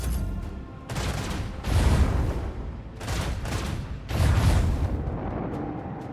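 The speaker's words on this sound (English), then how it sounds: "Fire the starboard guns." Starboard guns of a starship firing in the Warhammer 40K game Rogue Trader: heavy rolling booms in repeated bursts, loud and close, with rumbling tails between volleys.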